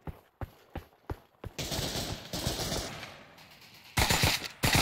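Gunfire in the VR shooter Pavlov: a string of sharp single shots at a steady pace, then a loud sustained burst of automatic fire. Heavier volleys follow near the end, all close and loud with no talking.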